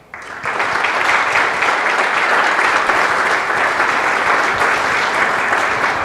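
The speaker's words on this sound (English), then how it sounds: "thank you very much for that warm clapping welcome" Warm, sustained applause from an audience welcoming a speaker, starting abruptly and holding steady and fairly loud throughout.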